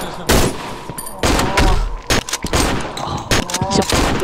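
Rapid bursts of gunfire from the horror video game Cry of Fear come in loud clustered volleys, and Danish players talk over the shots.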